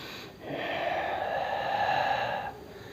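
A single long Ujjayi ocean breath drawn through a lightly contracted throat, a steady hissing rush lasting about two seconds that starts and stops abruptly, close and fairly loud.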